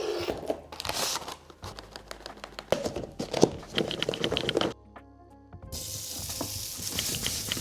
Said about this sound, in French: Pendant que le tofu frit tranquillement